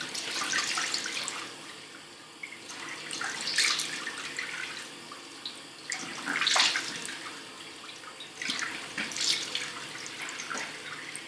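Face being rinsed with running tap water at a bathroom sink, heard as about four bursts of splashing and sloshing, each separated by a quieter stretch of running water, close and moderately quiet, with no talking.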